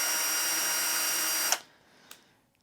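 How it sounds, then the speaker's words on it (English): A power drill bores holes in the lid of a CX3171a XL rack-mount case, its loud, steady whine running for about a second and a half before cutting off abruptly, followed by a single faint click. "this is where we need to drill our holes"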